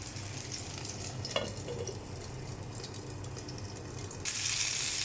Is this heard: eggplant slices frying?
yes